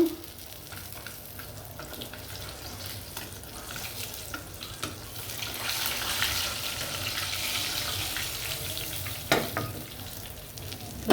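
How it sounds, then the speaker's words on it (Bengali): Eggplant slices fry in hot oil after fish has been fried in the same pan, giving a steady close-up sizzle and crackle that swells slightly midway, with a few sharp pops and no talking. "বেগুন বেগুনটা ভেজে দেব এই তেলে আমি বেগুন ভাজবো"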